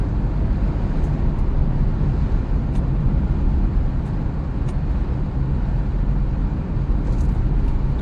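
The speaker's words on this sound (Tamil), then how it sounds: "டிராஃபிக் வர ஆரம்பிச்சிருச்சு." City road traffic rolling past in a steady broadband rumble, constant and fairly loud, with no distinct passes standing out and a few faint high ticks on top.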